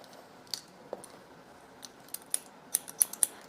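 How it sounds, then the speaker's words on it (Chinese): Scissors snip hair in a short-hair cut at a salon, with quiet, close, crisp clicks that come sparsely at first and then quicken into a run of sharper snips, heard alone with no talking. "看好导线就直接修剪"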